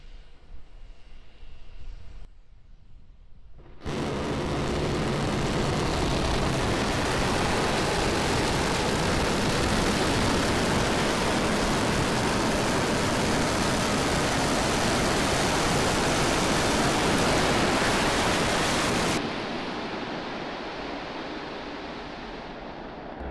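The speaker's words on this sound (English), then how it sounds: "We're preparing to light 3 Raptor engines to begin the flip sequence." SpaceX Starship lights three Raptor rocket engines for its landing flip, a sustained loud, broad roar that starts abruptly, holds for about fifteen seconds, then cuts to a quieter rumble.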